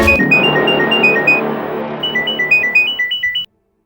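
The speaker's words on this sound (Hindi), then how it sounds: "अब गैंग वालों का फोन आएगा अभिजीत को" An electronic mobile phone ringtone sounds loud and close, signalling an incoming call. It plays a bright melodic phrase, shifts into a quick pulsing series of beeping tones, then cuts off abruptly.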